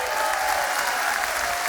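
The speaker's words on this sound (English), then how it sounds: "Could you give him a round of applause," Audience applause at a live concert, a dense, steady wash of clapping from a large crowd, loud and sustained throughout with no gaps.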